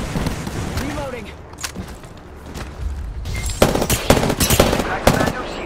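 Gunfire in the battle royale game Apex Legends, bursts of automatic shots, sharper and louder bursts toward the end, mixed with game voice callouts and background effects.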